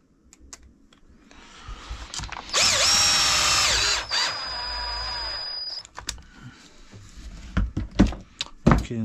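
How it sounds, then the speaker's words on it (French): A power drill drives screws in a close burst of whining motor sound lasting about three seconds, then a shorter second spin, surrounded by handling knocks and clatter with no talking. "c'est de pas trop visser comme un bourrin dedans"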